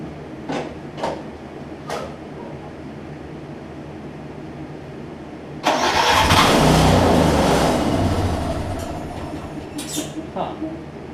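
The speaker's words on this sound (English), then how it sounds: "let me crank it up, see how she runs" A Snapper rear-engine riding mower with a freshly cleaned carburetor cranks and fires, its engine roaring loudly for a few seconds before dying back, bracketed by a few clicks and clunks and some quiet talk.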